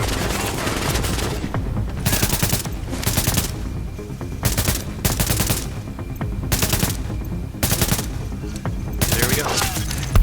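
Automatic gunfire in the video game Tom Clancy's The Division, repeated loud bursts of rapid shots separated by short pauses, with someone talking briefly over the action.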